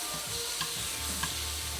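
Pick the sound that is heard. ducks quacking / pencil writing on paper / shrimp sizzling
shrimp sizzling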